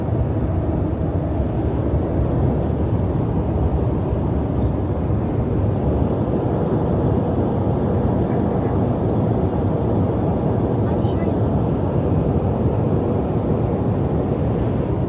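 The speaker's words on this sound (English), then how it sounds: "wind noise from the two storage boxes that I have on top." Steady, dense wind roar from two roof-mounted storage boxes on a lifted overland Toyota Tundra with a twin-turbo V6, cruising on the highway; a continuous broadband rush blends with road noise and never lets up.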